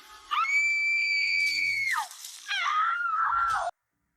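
A woman screams in a horror film (Death Camp, 2022): a loud, sustained high shriek that breaks off briefly, then returns as a wavering, falling cry before cutting out abruptly.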